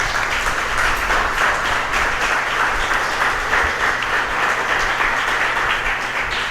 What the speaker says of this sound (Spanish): Dale un fuerte aplauso, papá Dios.